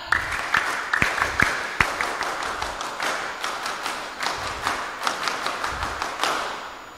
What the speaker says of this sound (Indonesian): marilah kita awali dengan 2 kali tepuk pramuka